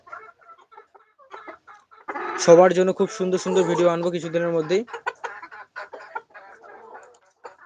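Chickens cluck and chatter in the background throughout on a poultry farm, while a person speaks clearly over them in the middle.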